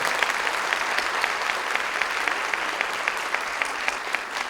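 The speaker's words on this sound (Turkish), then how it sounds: "Ben onun için bir alkış rica ediyorum sizden" A room full of people claps steadily and warmly, a dense wash of applause that stays even for several seconds.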